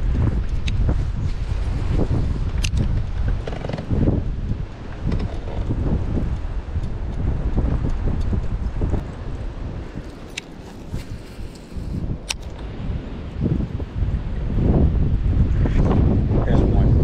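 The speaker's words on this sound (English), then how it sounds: "God, this wind." Strong wind blows hard across a lake during a fishing outing, buffeting the microphone in continuous loud gusts with a few sharp knocks, while a person talks intermittently underneath.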